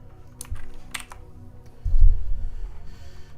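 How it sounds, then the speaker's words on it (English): Close computer keyboard typing in bursts of clicks and key taps, steady and moderately loud, with a heavier flurry of keystrokes midway and no speech. "I think my keyboard's quite loud"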